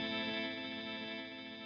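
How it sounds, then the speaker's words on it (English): An Eventide UltraTap delay pedal sustains a guitar tone whose repeats pulse with tremolo, a dense, steady wash fluttering rhythmically and slowly fading, played alone with no voice. "Then you can hear the repeats have this tremolo on it."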